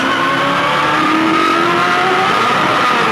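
A V8 touring car at the Bathurst 1000 spins its wheels and revs hard, the engine note climbing loud and close for a few seconds without speech.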